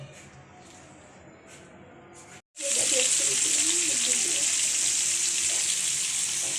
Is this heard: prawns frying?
yes